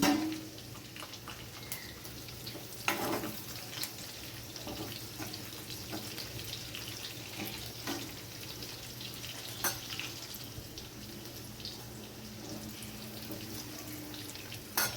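Slit green chillies hit a pan and fry with a steady, moderate sizzle that runs throughout, with a few sharper crackles and clatters from the pan along the way.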